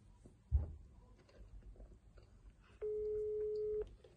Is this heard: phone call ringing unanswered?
yes